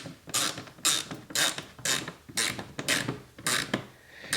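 Bolts on an EZGO RXV golf cart's input shaft assembly being snugged just past finger tight with a ratchet, giving a steady series of about eight close, rhythmic clicking bursts with no talk.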